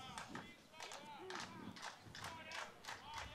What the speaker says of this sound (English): The rally claps are coming in.